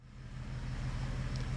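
A 2018 Chevrolet Traverse Premier's 3.6-liter V6 idling just after a push-button start, a steady low hum with a smooth, even rumble, close and continuous, with no talking.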